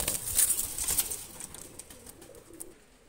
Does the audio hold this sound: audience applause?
no